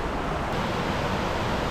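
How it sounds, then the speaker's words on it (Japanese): Fukiware Falls in Japan roars as rushing water tumbles over the rock gorge, a dense, steady broadband rumble heard close and loud with no voices. "それが滝です"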